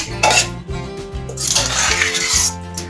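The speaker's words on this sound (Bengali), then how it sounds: "এই যে আমি এই পাত্রের মধ্যে ঢেলে নিচ্ছি" Fish curry (macher jhal) is tipped from the cooking pan into a serving bowl: loud metallic clanks and scraping of a spoon against the vessels, with splashy bursts of pouring between the knocks.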